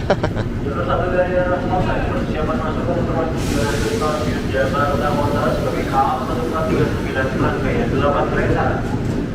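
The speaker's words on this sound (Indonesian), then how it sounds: "Jarang-jarang nih KRL Bogor masuk ke jalur 3 stasiun Depok" A KRL Bogor commuter train rolls into track 3 at Depok station, a steady rumble with hiss and squeal building under loud platform chatter and announcements throughout.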